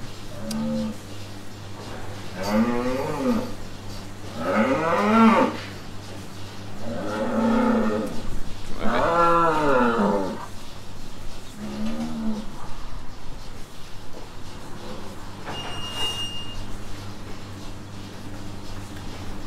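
Several long, low cattle moos in a row in stockyards, fairly close, followed by a quieter moo and some outdoor background noise.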